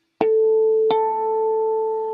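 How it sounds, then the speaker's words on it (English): A fourth interval is plucked on an electric guitar, two notes struck in quick succession and left ringing, their sustained harmonics wavering against each other in slow beats, close and clean with no talk. "if the interval is out of tune, you get interference beats"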